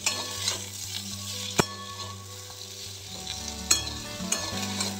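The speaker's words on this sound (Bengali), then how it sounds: "ডাঁটাগুলো ভাজা হয়ে যাবে।" Vegetable stems fry alongside potatoes in oil with turmeric and salt, giving a close, continuous sizzle marked by occasional sharp clacks as a spoon stirs the pan.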